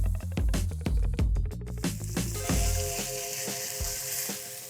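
Pork cheeks sear in a hot pan for a Spanish fabada, a steady loud sizzle with sharp crackles and knocks early on that settle into a continuous hiss.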